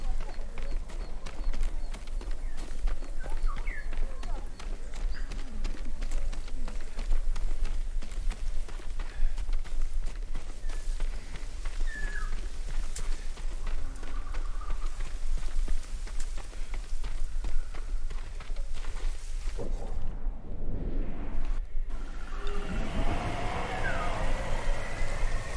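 A horse galloping in the video game Ghost of Tsushima, rapid rhythmic hoofbeats pounding steadily for about twenty seconds, then breaking off into a louder burst of clattering and movement near the end.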